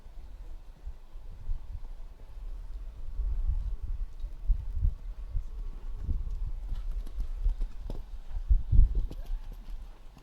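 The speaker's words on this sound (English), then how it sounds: "A big cantering horse, this." A big horse, about 17 hands, canters around a show jumping arena in a 1.35 m preliminary round, with rhythmic hoofbeats thudding steadily at moderate distance.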